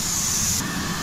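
A hydraulic leak at a sawmill valve hisses steadily and close, a continuous spray-like noise that stays level throughout the brief moment.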